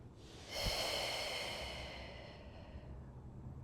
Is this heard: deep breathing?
yes